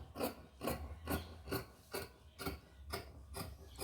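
Scissors cut through cloth for a blouse sleeve, giving about nine evenly spaced rasping snips in a steady rhythm, close and clear with no talking.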